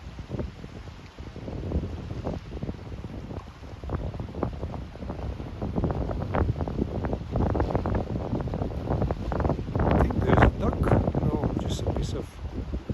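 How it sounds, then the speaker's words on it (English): Wind gusts across a chilly reservoir and buffets the microphone in uneven, rising bursts, loudest near the end, while people talk over it. "Pretty windy."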